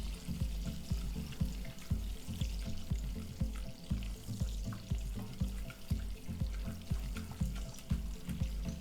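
Butter melts in a pan on the stove, with a soft, steady sizzle under rhythmic stirring or scraping thumps.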